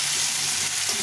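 Onions sizzle in hot oil in a pan with dried red chilli and cumin seeds, a steady, close hiss of frying with no voices over it.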